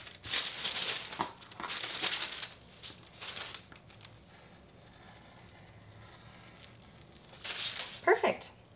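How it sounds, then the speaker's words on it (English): Scissors cut extra paper from a sewing pattern, giving crisp crinkling and rustling bursts close by, spaced out with quieter gaps and a final cluster of snips. "And I'm just gonna cut off this extra here."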